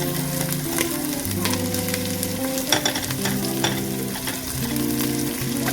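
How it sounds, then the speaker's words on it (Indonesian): Chopped onion and celery sizzle and crackle loudly in a hot pan while being stirred, a constant frying hiss broken by scraping stir strokes, with no one talking. "Tinggal dimasukkan dalam panci, kayaknya pancinya sudah mulai panas. Ya, bawangnya dulu."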